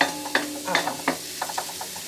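Garlic sautéing in a pan for garlic fried rice, with a soft sizzle broken by short scraping, stirring clicks from a spatula, close and fairly quiet.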